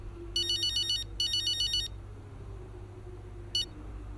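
A phone rings in the F1 25 racing game, two bursts of bright electronic trills in quick succession, then a short clipped start of a third ring, clear over a low steady hum.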